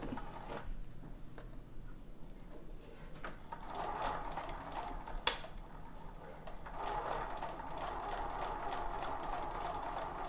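A sewing machine hums and rattles in bursts while sewing ruffles, running steadily for stretches with a brief sharp click partway through.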